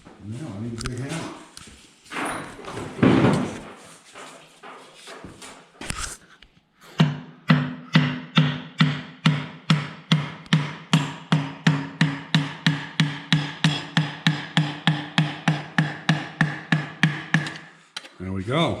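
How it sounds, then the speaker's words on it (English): A big hammer pounds on parts during a John Deere B engine rebuild, with rods and pistons being fitted. After a few scattered knocks, a long steady series of about thirty loud, ringing close blows follows at an even rhythm. "Now I need a big hammer."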